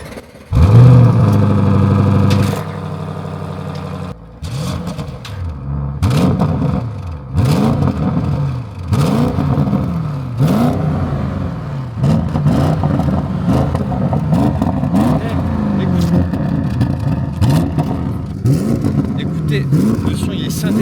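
A BMW M5 F90 or Audi RS6 starts with a loud burst, then its engine revs repeatedly in rising and falling sweeps at close range, with people talking over it.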